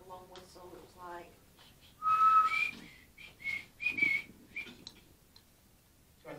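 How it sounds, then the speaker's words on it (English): A person whistles several short and long tones in a loose melody, with soft voices and quiet pauses between the notes, inside a cinema. "It was like a long whistle."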